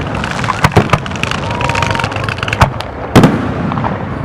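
A fireworks display at a July community event sounds as a string of sharp, loud bursts and crackles at irregular intervals over a constant rumbling background.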